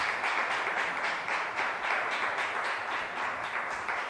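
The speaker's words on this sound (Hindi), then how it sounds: "तालियां बजा सकते हैं" An audience at a religious gathering claps steadily in a dense, continuous patter that holds evenly throughout at a moderate distance, with no talk over it.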